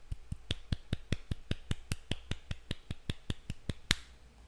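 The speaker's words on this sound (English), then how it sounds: "That was a golf clap." A steady series of soft, light claps, about five per second, close and fairly quiet, ending with one sharper clap.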